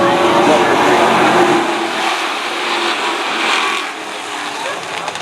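A field of full body division race cars roars past at Stafford Speedway at the start of a 20-lap race, a loud broad engine wash that peaks early, eases and swells again as the cars move off.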